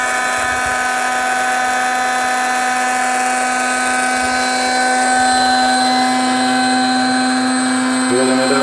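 An electric pump inflates a BOBS AirBedz air mattress in a pickup truck bed with a loud, steady, high-pitched whine and drone that runs continuously and rises a little toward the end.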